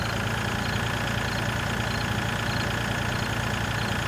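A tractor engine in Farming Simulator 2013 drones at a steady low rumble while cruising at about 12 to 13 miles an hour, an even, continuous mechanical hum with no breaks.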